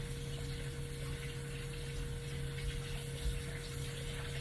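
Tap water running steadily while hands are washed with antibacterial dish soap at a kitchen sink, a faint continuous rushing hiss over a low electrical hum, with no clear splashes or breaks.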